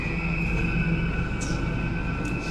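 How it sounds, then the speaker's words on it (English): A train pulls into a platform for a service to Paddington, a steady low rumble of the rail car with a faint high whine, continuous and close, with no talk over it. "Finally, the train is here to Paddington."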